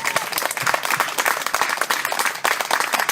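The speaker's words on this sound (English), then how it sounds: "a big round of applause." Audience applause at an awards event: dense, loud clapping from a crowd, sustained throughout with no talking over it.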